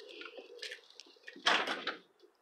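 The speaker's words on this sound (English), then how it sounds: "Knock. Hope nobody's home." Several raps on the door of a house for sale in North County, St. Louis, a short cluster of knocks at moderate loudness followed by a louder rattling thud, with no talking over them.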